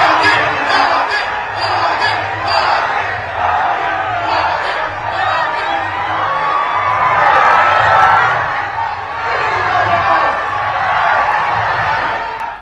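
A large crowd chants during a prime ministerial road show in Dibrugarh, Assam, packed along both sides of the road; a loud, steady roar of massed voices with rhythmic repeated shouts throughout.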